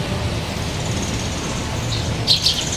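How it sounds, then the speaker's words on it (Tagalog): Birds chirp in a garden, a few high tweets standing out faintly near the end over a steady low outdoor hum. "naririnig pa yung mga ibon"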